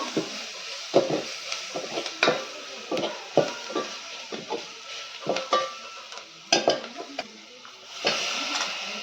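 Red chili powder and homemade red masala stirred in a pan over a traditional wood-fired stove, uneven scraping strokes with soft taps over a continuous hiss, close, no voices.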